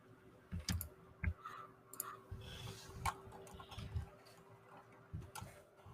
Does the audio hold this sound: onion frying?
no